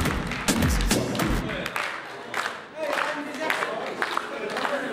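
A crowd claps for a girl at a party game during a wedding-style show program where young women compete. Scattered, uneven claps and thumps keep going for several seconds, loud and close, with voices talking over them.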